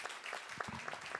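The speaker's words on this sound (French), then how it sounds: "Merci beaucoup à tous les deux, on va vous applaudir" Audience applause at an export awards ceremony, a steady patter of many hands clapping at moderate distance, fairly soft and continuous.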